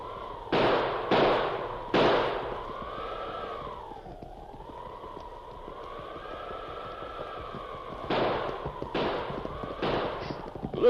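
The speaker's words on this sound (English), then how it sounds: "he pulled the heavy 6-gun from under his mackinaw and began firing" Sharp, loud gunshot-like bangs from a heavy six-gun revolver in a radio drama effect, three quick shots at the start and a burst of three more near the end, with a wailing wind tone sweeping between them.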